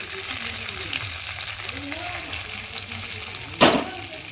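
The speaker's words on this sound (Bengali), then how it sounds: "বাকিগুলো আমি এইভাবে ভেজে নিচ্ছি" Atta paneer (dhoka) pieces frying in hot oil give a steady soft sizzle with faint stirring clinks, and one louder splash-like burst near the end; no voices.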